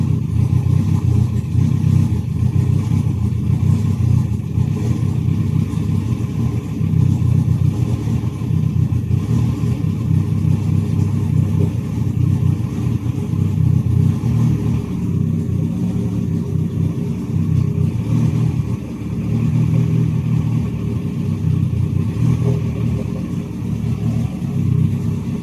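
Race car engine idling cold on its first start-up after a cracked piston pin, a loud, steady, low rumble running continuously with slight fluctuations and no revving.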